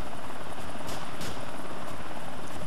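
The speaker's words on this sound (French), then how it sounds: "Allez, monte dans mon hélico." Helicopter from the GTA 4 video game, a steady broadband rotor and engine drone that holds close and fairly loud throughout, with no talk over it.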